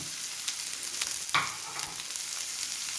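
Sliced onions and salt sautéing in a pan, a quiet steady sizzle with a few soft stirring scrapes and one brief louder clink near the middle, heard alone.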